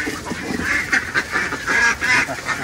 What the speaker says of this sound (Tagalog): Diyan nangingitlog yung itik natin.